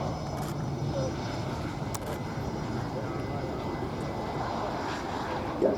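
PC-7 propeller aircraft fly an eight-plane formation display at the Royal International Air Tattoo, a steady broad engine drone rumbling continuously at moderate distance, with a brief louder swell near the end.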